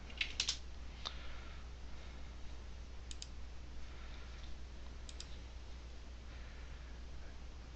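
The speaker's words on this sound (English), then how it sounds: "You can hear me typing." Faint, sparse clicking of keys on a computer keyboard in a quiet room over low steady hiss, with a short burst of taps at the start and scattered keystrokes later.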